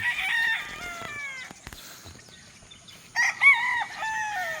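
Young gamecock roosters (stags) tied up outdoors on a farm in Laguna crow loudly nearby, one long crow followed by a brief pause and another crow starting, with faint background clucking.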